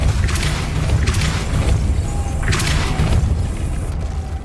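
A Depulso force spell cast in Hogwarts Legacy sets off a loud, deep booming blast with crashing bursts, then repeated whooshing surges over a rumbling magical background, with no talk.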